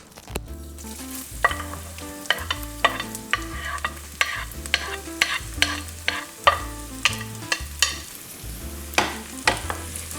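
Garlic in hot olive oil in a pan sizzles steadily while a spoon or spatula stirs and scrapes it with repeated sharp knocks, all close and fairly loud with no voices; a bass-heavy steady tone plays underneath.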